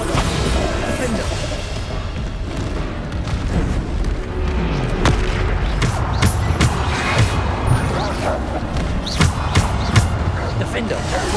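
Repeated Bombarda spell explosions in Hogwarts Legacy, sharp booming blasts recurring every second or so through a busy, continuous battle din.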